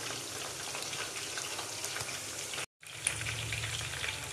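Chicken frying in oil over a low flame, a steady soft sizzle and crackle at close range with a brief break midway, no talk.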